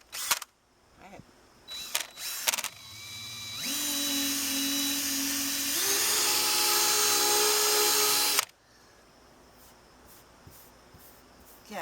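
A drill spins a pinstripe eraser wheel, a rising high whine that holds steady for several seconds and then cuts off abruptly, with brief handling knocks before it.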